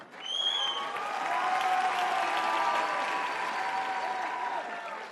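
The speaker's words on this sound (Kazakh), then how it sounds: "шапалақтарыңыз Эльдар мен Айжұлдызға деп сұрайыншы осылай" Studio audience applause for Eldar and Aizhuldyz on a Kazakh late-night talk show, a steady, dense wash of clapping that swells quickly and holds for several seconds before tapering, with a few faint whistles near the start.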